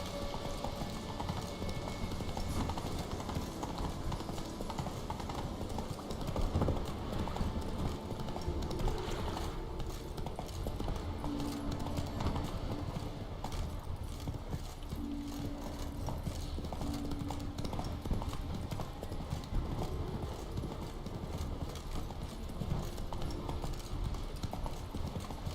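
Horse Roach gallops in Witcher 3, a steady run of hoofbeat clip-clops with game music and ambience beneath, continuous and fairly close throughout.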